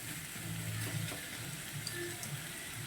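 Tomatoes and onions sautéing in a pan for an onion egg gravy give a faint, steady sizzle with a few soft stirring sounds. Nothing else is heard.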